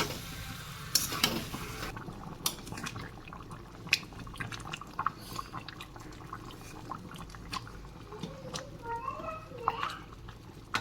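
Chili chicken cooks in a pan with a little water added, giving a soft steady sizzle with stirring scrapes and drips, while faint voices and background household noise carry on.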